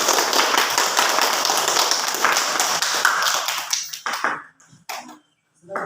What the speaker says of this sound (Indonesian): Jadi mari kita berikan tepuk tangan kepada semua.